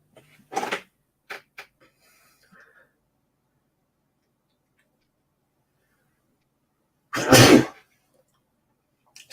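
Two sharp sneezes in a quiet room, a small one near the start and a louder, fuller one several seconds later, separated by near silence with a few faint clicks.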